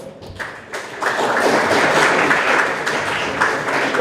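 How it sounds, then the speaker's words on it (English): A conference audience at an African startup event claps for itself, a dense wash of many hands building quickly after a few scattered claps and holding steady and fairly loud. "clap for yourselves for coming, for availing yourself"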